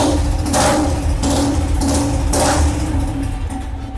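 A restored 1983 vehicle's engine idles close by, a loud continuous low rumble with a steady throbbing beat and no voices.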